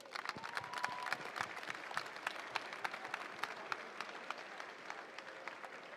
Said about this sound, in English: so a round of applause for us